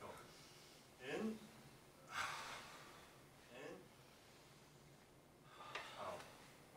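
A person takes a deep audible breath in during a warm-up breathing exercise, then a few more sharp breaths and snorts follow as others breathe along with speech-like noise.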